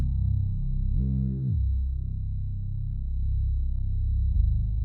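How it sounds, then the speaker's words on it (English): A deep, throbbing synth bass line in a dark ambient R&B beat made in FL Studio pulses steadily, low and full, with a brief rising swell partway through and no voices. "the last sound that I added to this melody is the synth bass"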